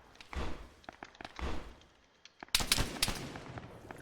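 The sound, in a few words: gunfire in video game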